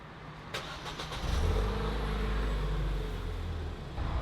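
A tuned Ford Fiesta ST hatchback cranks briefly, then its engine catches and settles into a steady, close idle after a stage 2 remap.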